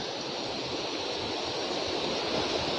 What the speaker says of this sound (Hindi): इतना बड़ा झरना यकीन नहीं होता है।